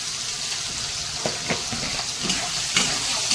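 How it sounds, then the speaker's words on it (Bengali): Garlic, ginger, cumin and chili frying in oil for a crab curry, a loud steady hissing sizzle broken by a few soft stirring scrapes. "রসুন দেবো আমি আদা দেবো একটুখানি জিরে মরিচ দেবো"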